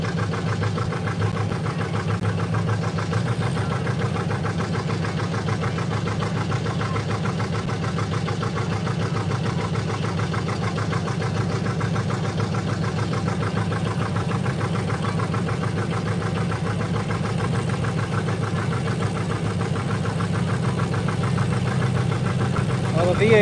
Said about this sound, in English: the V8s are coming up again right now, so they're in a couple tractors right now